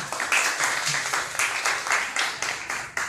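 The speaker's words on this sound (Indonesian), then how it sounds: "Terima kasih, tepuk tangan dong." Audience applause at a live comedy show, loud and near, with distinct rhythmic bursts of clapping pulsing throughout, each swell quickly repeating.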